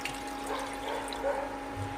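Water pours steadily into a pot, a quiet continuous splashing hiss with no voices.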